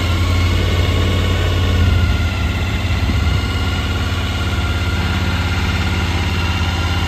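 A 2014 Suzuki DL 1000 motorcycle with a straight-through aftermarket exhaust idles close by, a loud, steady, deep rumble that holds even throughout with no talking.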